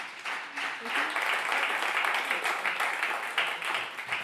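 Audience applause at a live radio show, steady clapping and some cheering from the crowd that holds for several seconds at moderate level, heard alone without talk.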